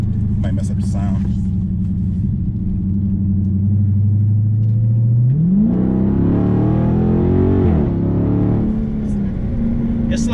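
Dodge Charger Scat Pack V8 driving in sport mode, a deep steady rumble from inside the cabin that climbs sharply in pitch as it accelerates, then settles back to a lower drone.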